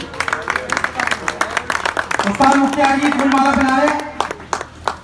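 An audience claps at a wrestlers' turban ceremony honoring a new ustad. Scattered, sharp handclaps come and go beneath someone speaking loudly, with a denser patch of clapping near the start and end.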